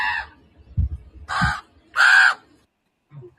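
A crow caws three times in harsh, evenly spaced calls, loud and close, with low rustling and handling noise between them and no talk.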